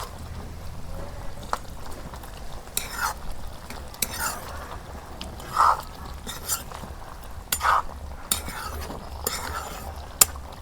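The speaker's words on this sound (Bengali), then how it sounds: "পানি ছাড়াই যে মাংস কষে নিতেছি" Beef being stirred and dry-fried without water in a karahi for an Eid meal, giving scraping spoon strokes, clinks of metal and a light sizzle at close range, with no talk.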